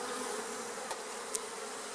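Honey bees buzz steadily around an open hive as a frame of honey is lifted out for inspection, a dense close hum with a couple of brief sharp ticks.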